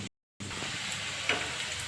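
Boiled beetroot frying in a pan gives a steady, soft sizzle, cut by a brief silent gap near the start.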